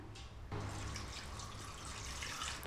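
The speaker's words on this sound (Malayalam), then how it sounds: "അതിനകത്ത് ഒരു കപ്പ് വെള്ളം ഒഴിക്കാം." A cup of water is poured over jaggery on a tawa set on the stove for peanut candy, starting abruptly and running as a steady, close pouring gush to the end.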